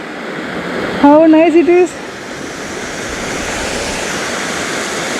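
A hidden waterfall in Gujarat rushes with a steady, close, broadband roar that continues without a break, while a person briefly speaks over it.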